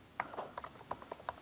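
Keys on a computer keyboard are tapped in a quick irregular run of light clicks, close and quiet, with soft pauses between bursts and no talk.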